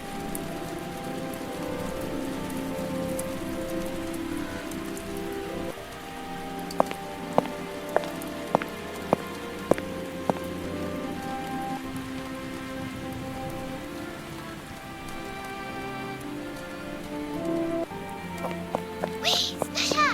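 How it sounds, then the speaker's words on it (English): Gentle rain falls steadily on a garden near a cave homestead, a soft continuous patter with occasional distinct drops and light clinks, accompanied by a faint tonal background. "The rain is gentle today."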